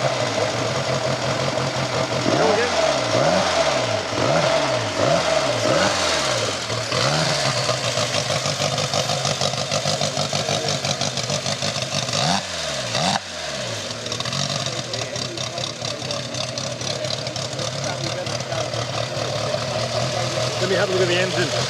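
The one-off 1929 AJS inline four-cylinder prototype motorcycle engine cranks and catches, then revs in repeated rising-and-falling bursts before settling into a loud, rough, steady idle with another blip midway.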